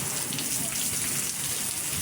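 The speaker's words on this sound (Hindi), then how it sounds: "मिठियारी, हाला और न्यू सईदाबाद में बादल जमकर बरसे।" Heavy monsoon rain in Sindh, Pakistan, a dense, steady hiss of downpour on surfaces, loud and unbroken with no voices.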